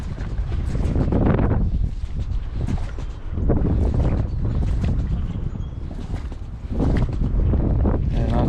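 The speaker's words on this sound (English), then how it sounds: "Wind's starting to blow pretty good" Wind gusts buffet the microphone out on a lake, rising and falling in loud rumbling bursts close by, with faint water and boat sounds beneath.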